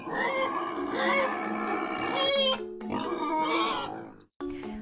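Wild boar grunt and squeal in loud, harsh, drawn-out calls with a few brief pauses, close and dominant, with no talking.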